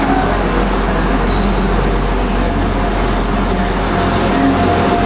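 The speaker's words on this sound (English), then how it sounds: "The next train to arrive at platform 2 is the little Arriva train coming in" A small Arriva passenger train pulls into platform 2 of a station, a steady loud low rumble and rolling hum filling the scene throughout without pause.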